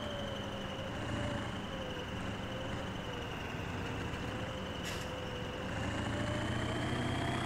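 A tractor engine runs steadily in Farming Simulator 17, a continuous mid-level drone with a faint whine that rises slightly near the end, no voices over it.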